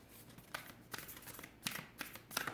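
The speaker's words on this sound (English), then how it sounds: "I want to get the cards out first" Tarot cards are shuffled by hand in several quick, quiet riffling bursts, close and faint, with short pauses between them.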